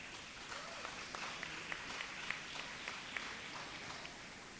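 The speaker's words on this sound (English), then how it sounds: "Keep the applause going." Applause from the audience at a student awards ceremony greets a performer heading to the stage, a steady, fairly faint wash of clapping with a few sharper individual claps standing out.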